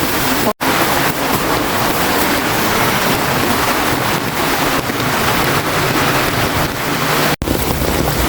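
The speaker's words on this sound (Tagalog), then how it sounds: "bahada dito talaga, literal, ang lakas ng agos." A loud, constant roar of rushing floodwater during Super Typhoon Carina in the Philippines, with heavy wind buffeting the microphone, unbroken apart from two brief dropouts.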